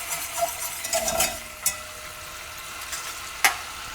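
Butter browning in a pan for a cheesecake crust, a soft continuous sizzle with occasional sharper pops and scrapes of stirring, close and moderately loud.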